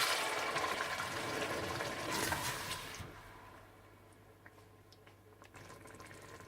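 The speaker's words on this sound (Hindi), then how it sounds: "टमाटर डालने के बाद आप इसमें हाफ कप पानी डाल दें" Half a cup of water poured into a cooking pan with frying tomatoes, a brief rushing splash and sizzle for a few seconds that then settles into a quieter bubbling simmer.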